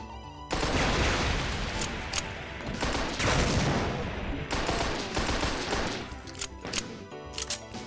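Rocket launcher firing in a Doom mod, dense loud explosive bursts and rapid blasts crowding together with sharp metallic clanks, ending in a choppier run of shots.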